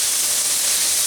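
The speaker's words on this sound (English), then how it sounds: "Want to make sure to get a good push down to kind of help that burger sear." A burger patty pressed hard onto a hot griddle for an Oklahoma onion smash burger, giving a steady, close, bright sizzling hiss that holds evenly throughout with no talk.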